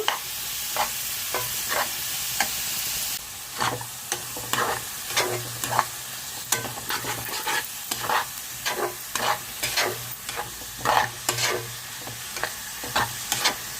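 Onion pieces fry in a pan for a curry of eggs and dried ribbon fish, a continuous close sizzle broken by repeated scraping strokes of a spatula stirring at an uneven rhythm.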